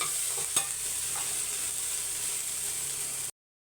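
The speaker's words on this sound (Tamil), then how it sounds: "பொரியட்டும் காயை நடுவில் மிக்ஸ் பண்ணி விட்டுக்கலாம்" Cluster beans frying in a pan for a Tamil poriyal, a steady close sizzle with one sharp stir clack early on, alone and ending abruptly.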